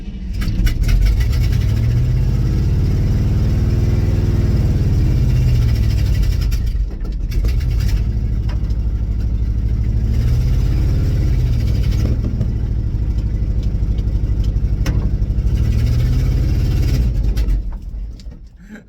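An old 1965 International truck engine idles roughly and loudly. It struggles to stay running, with its rumble sagging and surging in uneven waves and dipping near stalling several times.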